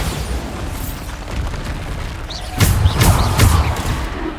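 A Bombarda explosion spell in a Harry Potter game bursts with a loud booming blast, followed by a couple of crackling pops and a rumbling aftermath, close and alone.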